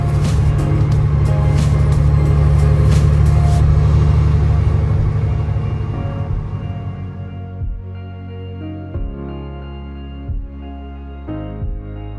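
Truck idling and creeping through a construction traffic jam on the way to Denver: a loud, steady low engine rumble heard from inside the cab, easing off after several seconds into a quieter drone with occasional clunks.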